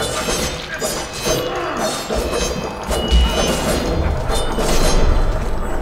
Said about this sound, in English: Run from the bombs.